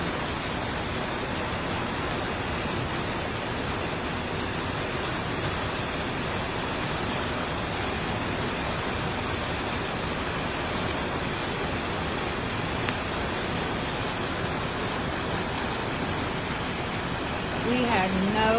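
A flooded creek in Fayetteville, Arkansas, swollen by heavy rain, rushes in a loud, continuous, close-up roar of churning water that holds steady throughout.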